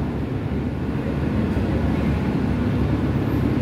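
Ambience at a simple train station in Thailand: a constant, loud low rumble with a busy noise bed and no distinct events or voices standing out.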